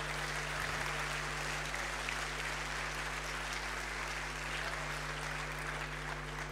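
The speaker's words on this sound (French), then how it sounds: "Vous pouvez les applaudir bien fort." Steady, fairly faint applause from a conference audience after a security talk at a hacking event, an even wash of clapping under a constant low hum with no speech.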